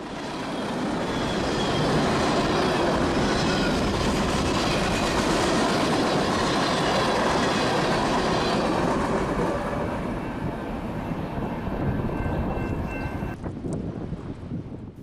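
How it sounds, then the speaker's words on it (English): Freight train with sand cars rolling past in northern Illinois, a loud, sustained rumble and rattle of wagons with rhythmic clickety-clack, close by, easing off and thinning out toward the end. "The sand cars you see up at the front of the train are picked up in Oregon at the interchange with the Illinois Railway"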